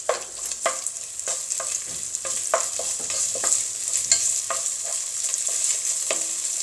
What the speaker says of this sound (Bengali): পেঁয়াজও ভাজা হচ্ছে, সাথে চিংড়ি মাছটাও আমি ভেজে নিচ্ছি